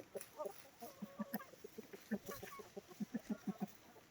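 Naked neck chickens in a coop cluck in short, repeated bursts, several soft clucks overlapping in quick uneven rhythm, fairly close but quiet.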